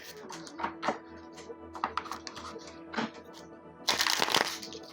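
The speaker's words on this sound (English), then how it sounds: "I feel a little rusty shuffling because I don't read tarot nearly as much as I used to" Tarot cards shuffled by hand in a series of soft, papery riffles and slides, the last and loudest burst near the end, close by under a faint steady hum.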